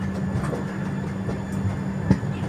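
A passenger train rolls very slowly along a flooded, waterlogged rail line near Viramgam, Gujarat during monsoon rain, giving a continuous low rumble with faint wheel clacks and a brief louder knock near the end.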